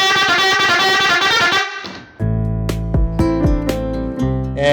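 Custom pressure horn built for large trucks blasting loudly: a bright multi-tone honk, a short pause, then a deeper, heavier horn blast with rapid pitch swoops and stutters, sounding up close.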